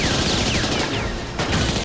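A rapid volley of gunfire crackles amid a dense, rumbling din of explosions, with a few whizzing streaks overhead, from the 1999 James Bond film The World Is Not Enough.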